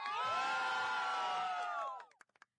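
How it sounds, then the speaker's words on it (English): A crowd of Nepal cricket fans at a T20I match in Canada lets out a loud, sustained roar of cheering and shouting, which cuts off abruptly and gives way to a few scattered claps. "Can I have a cheer for Nepal, guys?"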